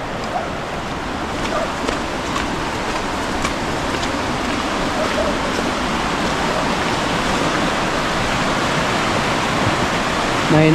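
Steady, loud roar of rushing floodwater near a creek that continues without a break, dense and churning, with no voices.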